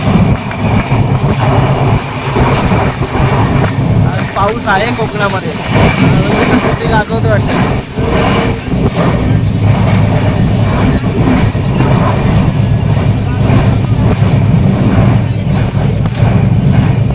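Loud, continuous rumble of a train running on rails through the Konkan region with rhythmic clatter, while someone talks over it.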